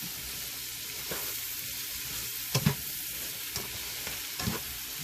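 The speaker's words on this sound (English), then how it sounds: "let's just keep stirring this" Italian sausage, peppers and onions sizzle steadily in a pan while being stirred, with a few sharp utensil scrapes and knocks standing out over the soft, continuous frying hiss.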